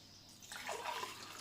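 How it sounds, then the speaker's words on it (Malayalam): Black tea (sulaimani) poured into a glass: after a brief quiet moment, a soft, close, continuous liquid splashing and trickling that keeps going to the end, faint overall. "ഗ്ലാസ്സിലേക്ക് ഒഴിക്കുന്നു."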